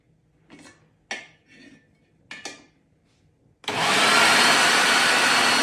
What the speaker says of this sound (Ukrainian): Перекручуємо зараз на м'ясорубку